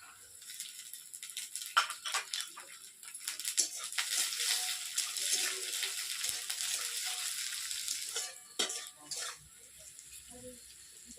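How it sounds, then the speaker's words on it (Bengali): Peas and carrots fry in a pan for a Bengali vegetarian singara filling. A loud, steady sizzle is heard up close, with a few scrapes and clatters of stirring. "মটরশুঁটি গাজর ভেজে নিলাম"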